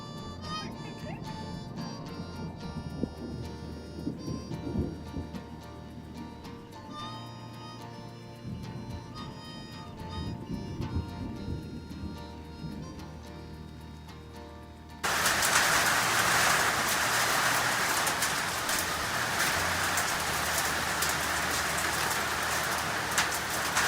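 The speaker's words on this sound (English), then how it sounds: "it's beginning to storm out there" A summer thunderstorm sets in: mixed ambience and low rumbling give way midway to a loud, dense hiss of heavy rain pouring steadily close by for the rest of the stretch.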